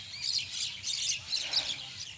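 A pet parrot-myna bird chirps in quick, high bursts after release from its cage outdoors, a fairly close run of repeated calls with no speech.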